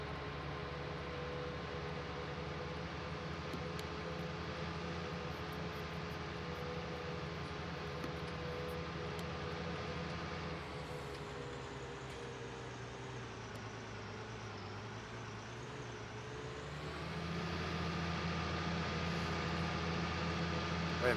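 A small 200-horsepower tractor driving in Farming Simulator 19, its game engine sound a steady, continuous drone that dips in pitch midway and then swells louder, with no talking over it.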